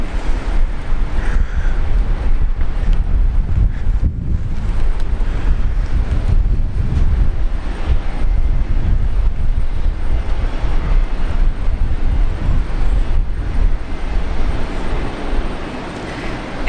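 A plane taking off from runway 19 left at Brisbane Airport, a loud, sustained low roar of jet engines mixed with heavy wind buffeting on the microphone, continuous throughout and fading slightly at the end.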